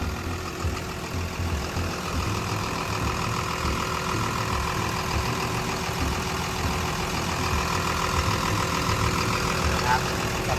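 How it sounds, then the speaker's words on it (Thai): Up close, the Komatsu 6D107 six-cylinder turbocharged diesel of a Komatsu WA320-8 wheel loader idles with its engine cover open, giving a steady, even rumble and hum throughout while someone talks over it now and then. "ตัวนี้จะเป็นเครื่องยนต์6สูบเทอร์โบนะครับ"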